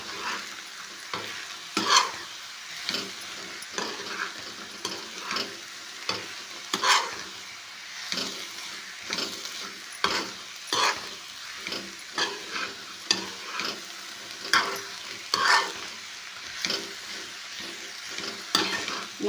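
Ridge gourd pieces fry in plain oil in a pan while a spoon stirs them, making steady sizzling with repeated scraping strokes at an uneven rhythm. No one speaks.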